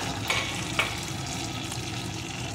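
Cumin-ginger paste and slit green chillies sizzle steadily in a hot pan, a dense, even frying hiss with a couple of brief stirring scrapes near the start and no talking.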